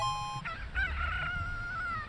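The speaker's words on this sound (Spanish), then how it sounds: "¿Ve la gallina bajo el agua?" Cucco chicken in the video game Zelda Ocarina of Time, a short squawking cluck following a bright chime, clear and close with no talk.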